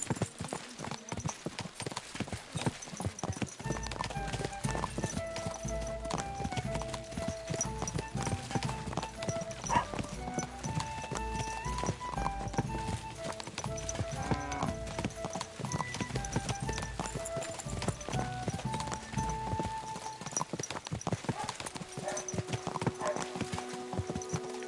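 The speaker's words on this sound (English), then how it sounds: "This horse wasn't cheap, that's for sure." Hooves beat a steady gait as a horse is ridden in Kingdom Come Deliverance 2, mixed with game music, ambient tones and the odd whinny throughout.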